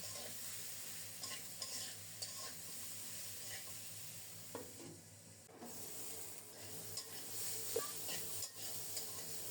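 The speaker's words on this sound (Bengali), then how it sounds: "নেড়ে চেড়ে ঢেকে ঢেকে পটল আর পেঁয়াজ ভালোভাবে ভেজে নেব।" Pointed gourd and onion being stirred and fried in a pan, a faint, even hiss of frying running throughout, punctuated by a few soft scrapes and taps from stirring.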